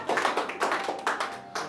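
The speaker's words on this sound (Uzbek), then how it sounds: "Marhamat qilib qarsaklar sadosi ostida." Audience applause at a gift-giving ceremony, a short burst of steady, fairly close hand clapping with a quick uneven rhythm.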